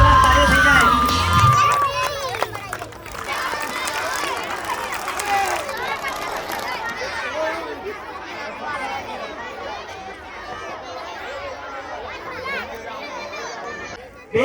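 Crowd at a garba performance event in Nadiad cheering, shouting and clapping, a dense continuous roar of many voices with children's shouts and a brief tonal sound near the start.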